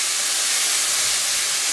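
White cabbage fries in a pan on a stove at full heat, giving a loud, dense, continuous sizzling hiss close up with no pauses.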